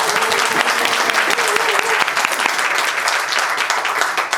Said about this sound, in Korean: 두 분의 협업을 계속 바라시는 박수 한번 부탁드릴게요